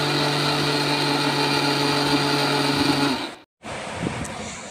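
An electric blender whirs loudly and steadily as it grinds milk into a smooth paste for kulfi, then cuts off abruptly before a brief restart.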